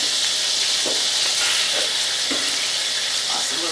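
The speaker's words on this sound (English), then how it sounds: "be very careful when you're sauteing these." Sliced greens and onion sauté in a hot pan with a bright, continuous sizzle, close and loud, broken by a few soft bumps of tossing or stirring.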